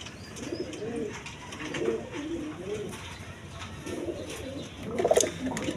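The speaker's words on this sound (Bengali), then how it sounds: "বন্ধুগণ এখানে এক পেয়ার গিরিবাজ কবুতর আছে" A pair of Giribaz pigeons in a small cage coo in soft, repeated rolling phrases at a steady rhythm, fairly close, with faint background noise between calls.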